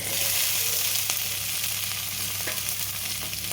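Boiled cluster beans with turmeric crackle and hiss steadily in a hot pan, a close, continuous frying sizzle with a few faint utensil taps and no talking.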